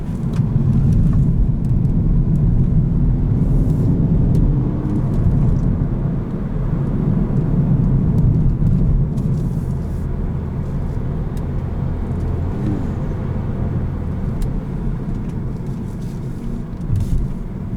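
A 2018 Hyundai Elantra Sport on the road, heard as a steady, loud low engine and road rumble with tire noise throughout, no talking over it.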